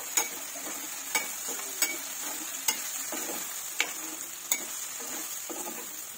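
Okra sizzles in a pan as it fries, with a constant crackling hiss broken by regular sharp scrapes of a spoon stirring roughly once a second, close and clear with no talk.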